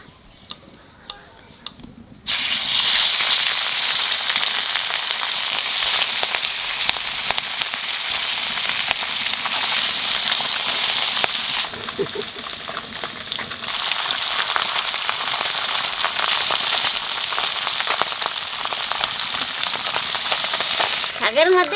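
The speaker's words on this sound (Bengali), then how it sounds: "শাকের মধ্যে মাছ বেশি কড়া ভাজা দেবো না, একটু কম কম ভাজা রাখবো।" Fish fries in hot oil for a mustard greens dish, a steady close sizzle that bursts in loudly after a brief quiet start and carries on with light ticking crackles.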